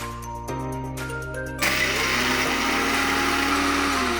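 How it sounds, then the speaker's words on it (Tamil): A mixer grinder with a small jar grinds dry-roasted spices for Punjabi dum aloo. The motor starts and steps up in pitch, then runs steadily as a loud, continuous whirring drone. "நான் விடியமோட குட்டி ஜார் எடுத்திருக்கேன். இது வந்து இப்போ ஸ்மூத்தா அரைச்சுக்கலாம்."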